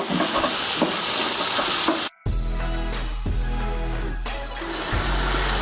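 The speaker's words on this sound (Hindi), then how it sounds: "हरा प्याज डाल के अच्छी तरह से हम इसको मिक्स करेंगे। दो से 3 मिनट तक हम इसको भूनेंगे।" Chopped green onion fries in a pan while being stirred, giving a close, steady sizzle with periodic scraping strokes and a brief break partway through.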